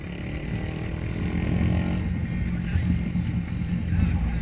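Haojue Chopper 150 motorcycle engine running close by, a continuous low rumbling drone that rises slightly in intensity partway through, heard on its own without talk.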